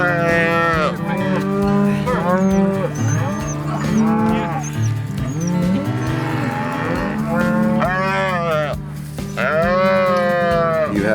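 Cattle mooing repeatedly on a ranch, several long, loud, drawn-out calls from more than one animal overlapping one after another, close by and steady throughout.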